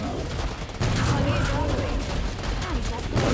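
Combat shotgun fire in the video game Killing Floor 2: heavy, loud blasts, one near the start and another at the end, over a dense, constant din of battle.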